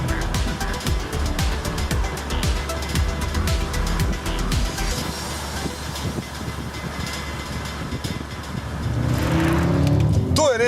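A 2013 BMW M6 Gran Coupe accelerating hard through its gears on a slippery road, loud engine roar rising and falling with rapid shifts, then a louder surge near the end.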